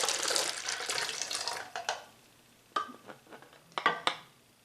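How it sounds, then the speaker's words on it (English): Water pours steadily into a bottle at first, then gives way to scattered knocks and clinks of handling. "I'm going to put the water into my bottle."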